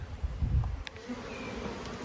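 Honeybees buzzing softly around an open hive during queen introduction, a faint low hum with brief louder passes near the start.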